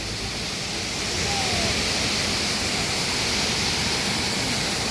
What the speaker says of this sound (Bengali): দেখুন বন্ধুরা দেখুন ওয়াটারফল, দেখুন ওয়াটারফলটা দেখুন শুধু।